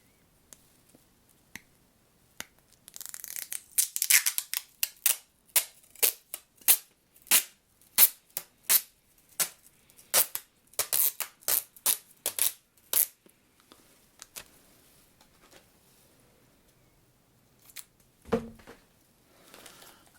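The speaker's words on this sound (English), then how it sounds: "I'm going to take the sellotape." Sellotape being pulled off the roll and torn during gift wrapping, heard up close as a run of sharp crackling rips and snaps in quick bursts, then a few isolated ticks and quieter handling.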